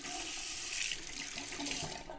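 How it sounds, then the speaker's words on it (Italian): Water runs steadily from a tap into a sink while shaving soap is lathered, a continuous close splashing hiss with no voices over it. "Io direi di aggiungergli ancora acqua,"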